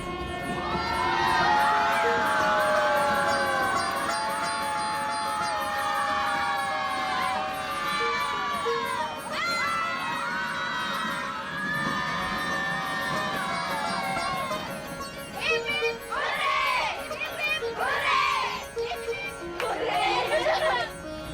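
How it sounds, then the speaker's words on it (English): Schoolchildren in uniforms cheer together aboard a train passing through a tunnel in Punjab, India, a loud, sustained crowd of young voices rising in whoops and shouts over the rumble, with bursts of excited yelling toward the end. "The school kids in their uniforms cheer in unison every time we pass through one of the tunnels."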